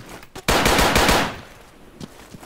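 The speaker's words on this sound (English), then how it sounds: "I'm fast at firing." A burst of rapid automatic gunfire from a weapon in the Battlefield 2 Nightfall 2048 mod, loud and close for under a second, fading out followed by a couple of softer isolated shots.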